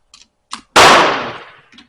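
A single loud, close rifle shot from a Mauser chambered in 8mm Mauser, a sharp crack with a long decaying tail, set between a few faint clicks of handling.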